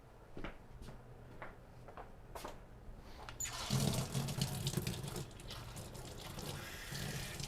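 Water runs from a tap in a workshop, starting with a few clicks and knocks before a steady rushing stream gushes out and continues to the end.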